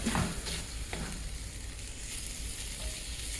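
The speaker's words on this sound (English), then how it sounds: "So stir your beans in." Beans, green chilies and ground beef being stirred in a hot skillet, a steady close sizzle with a few scraping spoon strokes early on.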